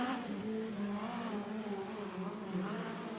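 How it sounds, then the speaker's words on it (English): A USAC race car engine fires and pulls away at speed on the one-third-mile Bakersfield Speedway oval, a fairly distant, steady droning roar whose pitch wavers as it runs. "So now the car fires and he will take off at speed."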